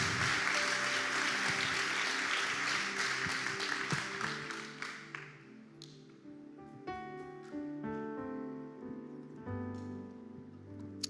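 A church congregation claps loudly at first, then the applause thins out over a few seconds, giving way to keyboard music that carries on alone.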